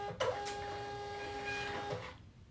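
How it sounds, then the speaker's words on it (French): Close by, a printer prints a shipping label: a whirring feed motor with steady tonal hums runs for about two seconds, starting and ending on short mechanical clicks. "Hop, imprimer."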